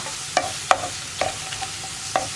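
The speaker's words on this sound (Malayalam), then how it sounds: "ഇനി സവോള ഒന്ന് നന്നായിട്ട് കളർ മാറി വരുന്നത് വരെ നമ്മളൊന്ന് വഴറ്റി കൊടുക്കുക" Onions and green chillies being sautéed in a pan, several sharp spatula scrapes and knocks over a soft, continuous sizzle, fairly close and without any voices.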